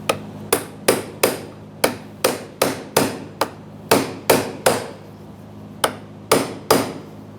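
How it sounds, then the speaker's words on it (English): A hammer strikes a brass punch against the fuel pump module lock ring of a 2013-2020 Ford Fusion 2.0L, giving crisp metallic taps in uneven bursts of two or three, close and loud. "Hammer and brass punch, of course."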